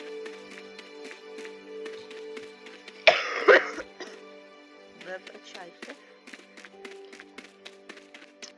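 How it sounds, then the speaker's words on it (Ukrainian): A woman with a lingering cold gives a short, harsh cough burst close to the microphone, set between stretches of quiet talk in a room. "кашель ще не пройшов"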